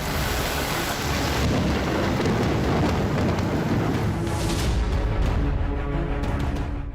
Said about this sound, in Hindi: मुंबई में मूसलाधार बरसात शुरू हो चुकी है।